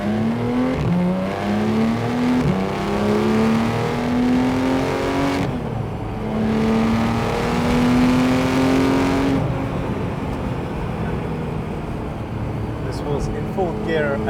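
Porsche GT3 with PDK gearbox in sport mode accelerating hard, engine note rising steadily through gears with brief breaks at each shift, loud and close from the cabin, with talk over it.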